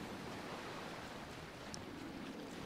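Sea water in GTA 5 Online washes and sloshes as a character swims, a dense steady rushing of waves and surf that stays constant throughout, with no voices.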